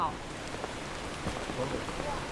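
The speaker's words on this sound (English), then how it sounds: "It's pouring rain" Pouring rain drums steadily on surfaces close by, a dense continuous patter with a few louder drips, heard alone without talk.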